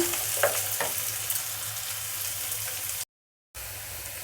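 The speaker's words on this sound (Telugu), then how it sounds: "ఉల్లిపాయలు పచ్చిమిరపకాయలు ఫ్రై అయినాయి కదా అందులోనే అల్లం వెల్లుల్లి పేస్ట్ అల్లం వెల్లుల్లి పేస్ట్ పచ్చివాసన పోయేదాకా వేయించుకున్నాము" Onions, green chillies and ginger-garlic paste fry in hot oil with a steady close sizzle, a few stirring clicks early on, and a short dropout near the end.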